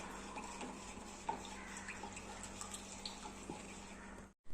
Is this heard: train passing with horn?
no